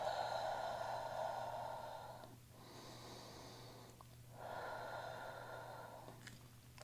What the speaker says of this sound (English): And breathe it out.